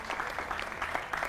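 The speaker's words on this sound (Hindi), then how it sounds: "जोरदार तालियों से उनका भी स्वागत कीजिए।" Brief applause from an audience, a steady patter of many hands clapping at moderate volume.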